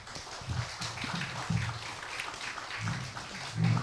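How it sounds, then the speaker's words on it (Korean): A lecture audience applauds after a talk on Friedrich Schiller and his era, a steady wash of many hands clapping at a moderate distance in a hall. "여러분 큰 격려의 박수 한번 부탁을 드립니다"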